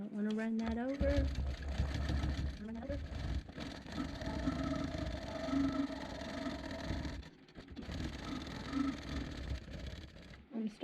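A longarm quilting machine stitches in the ditch on a quilt top with fullness, its motor humming steadily with a fast rhythmic needle chatter, while a voice talks over it nearly throughout.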